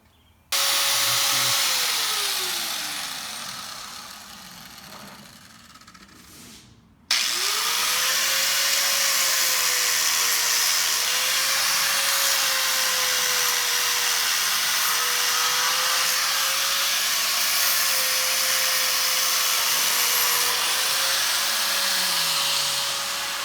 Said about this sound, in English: I'm gonna start cutting this plate out